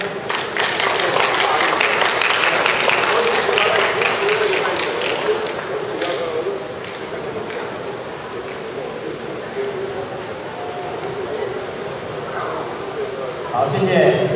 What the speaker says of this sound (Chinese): 掌声恭喜他们